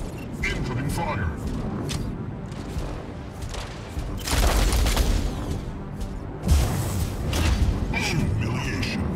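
Gunfire and explosions from the mech combat game Mech Arena, with rapid volleys, mechanical clanks and heavy booms layered densely throughout, peaking in loud blasts near the middle and later.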